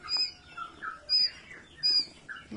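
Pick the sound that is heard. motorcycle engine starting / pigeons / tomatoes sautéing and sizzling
pigeons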